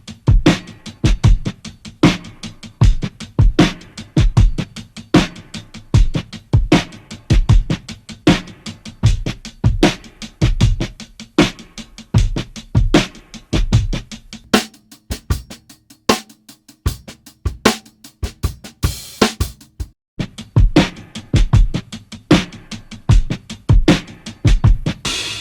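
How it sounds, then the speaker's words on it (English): A full lo-fi tape drum break plays as a loud, dense, punchy groove of kick, snare and busy hi-hats, with a brief drop-out of the low end midway before the full beat returns. "the full mix of the drum break sounds like this."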